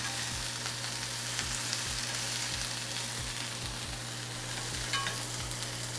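Tofu pieces frying and browning in a cast iron pan give a dense, steady sizzle with faint occasional scrapes, close and continuous under a constant low hum, with no talking.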